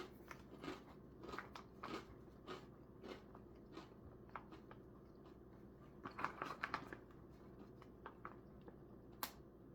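Crisp, crunchy bites and chewing close to the mic, a series of sharp cracks spread irregularly across the clip, thickest near the end.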